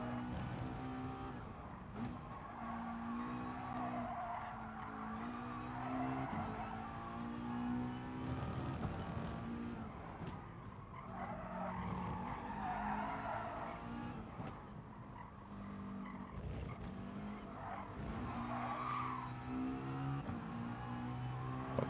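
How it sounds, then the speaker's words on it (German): A Group 4 race car drifts on the Catalunya circuit in a racing video game, its engine droning steadily with rising and falling revs and scrubbing tire squeal running throughout, loud and close. "Kleinen Drift für die Galerie."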